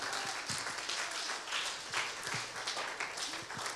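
Congregation applauding during a church service, a steady wash of clapping from many hands with a few low thumps, continuous across the room at moderate level.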